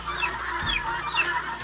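Layer hens mixed with roosters on a Nepali integrated poultry farm cluck softly in a continuous background murmur, with a few clearer calls rising above the hum of the shed.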